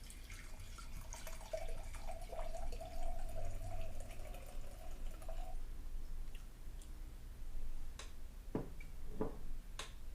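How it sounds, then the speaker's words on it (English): A glass being refilled, with a liquid pouring and gurgling for several seconds, followed by quiet and a few sharp clinks and taps as the glass settles. "let us pour another glass"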